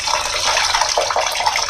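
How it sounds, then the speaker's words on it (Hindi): Cold water pours in a steady, splashing gush onto freshly made chhena for rasmalai, close and fairly loud throughout with no talk over it. "मैं इसमें और ठंडा पानी डालूंगी"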